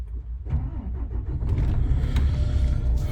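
A 2012 DAF XF460 truck's diesel engine cranks and catches, rising from a brief starter whir into a low, steady rumble nearby, with no voices.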